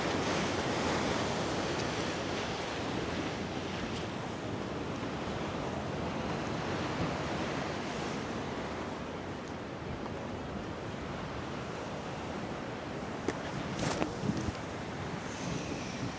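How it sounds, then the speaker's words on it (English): Sea waves break continuously on the shore at Costa de la Calma, Mallorca, at sunset: a steady, broad wash of surf heard from a distance, with wind rumbling on the microphone and a few brief clicks near the end. "And we'll enjoy the waves from a distance."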